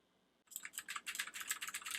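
Typing on an hwings wired/wireless multi-device mechanical RGB gaming keyboard, a quick close run of clicky keystrokes starting after a short silence and continuing in an uneven rhythm.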